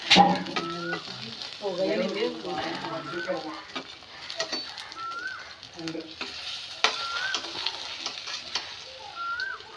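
Banana fritters (pazhampori) fry in oil with a steady sizzle and occasional stirring clinks, while a dove coos softly in the background and a voice murmurs now and then.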